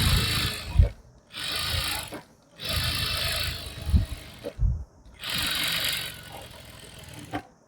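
Sewing machine stitching along foam piping for a cushion edge, running in four bursts of steady whirring with short pauses between them, close and fairly loud, no talking.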